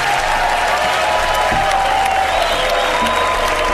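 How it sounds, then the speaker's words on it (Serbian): Studio audience applause on a game show, a steady loud wash of many hands clapping throughout, continuous and even with no pauses. "Osim da vas podržimo jednim aplauzom za početak."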